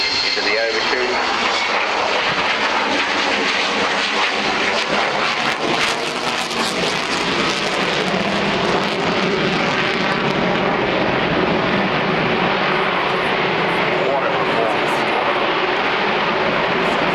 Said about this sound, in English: The Avro Vulcan, and it's your aeroplane.